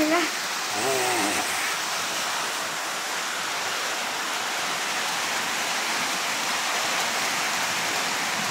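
Heavy afternoon rain pours down in a steady, dense wash of noise, loud and unbroken throughout, with a brief voice heard at the very start.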